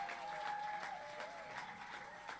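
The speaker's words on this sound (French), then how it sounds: "Veuillez applaudir pour ces commandos." Congregation applauding at a church teaching gathering, a faint, continuous patter of clapping from a crowd, brief and distant.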